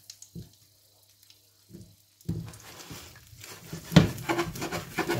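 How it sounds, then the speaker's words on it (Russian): Asparagus frying in olive oil in a pan, starting with a few soft taps in near silence, then a rising close sizzle with scraping and shuffling as the spears are moved about. "Обжаривать я спаржу буду на оливковом масле, которое специально именно только для жарки."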